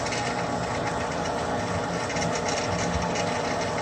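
A restored vintage Jet drill press motor spinning at its low speed setting, a steady dense mechanical whir with a faint rhythmic rattle, close and loud, running alone without talk.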